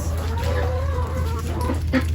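Chickens cluck at a farm where they roost above rabbit hutches, near and fairly steady over a constant low hum, with no one talking.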